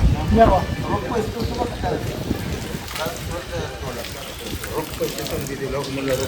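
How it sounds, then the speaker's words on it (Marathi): Water pours and splashes steadily for washing feet at the Khandoba temple, a continuous close gush and spatter with a voice talking over it. "आता आपण जात आहे पाय धुण्यासाठी"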